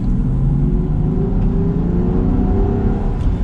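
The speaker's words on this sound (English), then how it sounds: "And then just giving it a little bit of gas." A 2020 Land Rover Defender accelerates on the road, a loud steady engine rumble with a rising whir heard from inside the vehicle, no talking.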